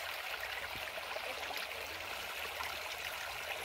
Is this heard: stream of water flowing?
yes